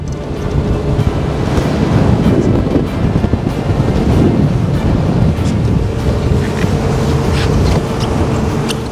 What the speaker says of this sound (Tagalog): Sobrang bilis na itong fast craft na abot sa maybe 60 kilometers per hour.